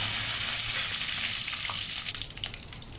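Mustard seeds, cumin and curry leaves sizzle loudly in three spoons of hot oil for kadhi, a close, steady hiss that settles into softer crackles and pops in its final second.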